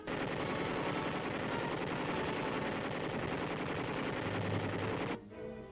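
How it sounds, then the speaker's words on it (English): Machine guns fire live ammunition over soldiers crawling through a training course, a rapid, continuous rattle of bursts that runs loud and unbroken before cutting off abruptly near the end. "guns fire live ammunition over the heads of the men as they crawl 75 yards toward the finish line"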